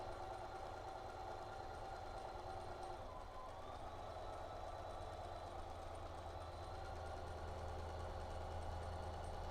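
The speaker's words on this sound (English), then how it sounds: "And we're sewing right off at the end." Sewing machine stitching straight off the end of a quilt seam on star border blocks, a steady continuous motor hum with running vibration throughout, moderately loud and close, no talking.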